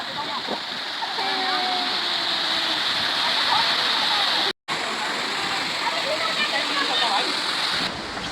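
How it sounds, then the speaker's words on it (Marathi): A waterfall at a hidden spot reached by trekking, a loud steady rushing roar of falling water that fills the whole scene and continues unbroken except for a momentary dropout. "तर अशा प्रकारे आम्ही थोडंसं वॉटरफॉल बघितलं, शोधलं"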